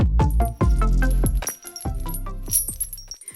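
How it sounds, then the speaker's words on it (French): Clanking chains of slaves: heavy metal links rattling and clinking in several loud bursts, close and alone. "C'est un bruit de chaînes. Les chaînes des esclaves."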